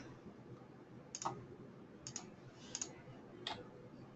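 Computer mouse clicks during graphic design work, four short sharp clicks spaced about a second apart, some doubled, faint and close over a quiet room hum with no talk.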